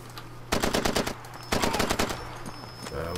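Rapid automatic gunfire from the video game Far Cry 2: two loud bursts of close shots, each lasting about a second, with a quieter rattle trailing off after them.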